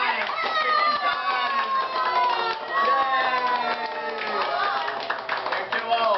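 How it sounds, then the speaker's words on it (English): Birthday party guests clap their hands repeatedly in a steady run of claps, mixed with overlapping voices chanting and talking close by. "Okay, clap 60 times."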